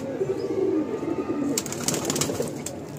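Pigeons in a loft coo with low, rolling calls throughout, steady and fairly close, while softer rustling and light chirps rise in the second half.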